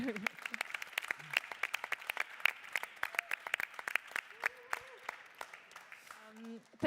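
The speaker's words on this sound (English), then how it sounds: "You can give a big round of applause." Scattered clapping from a small audience, sharp uneven claps spread through the stretch, with a voice talking faintly underneath.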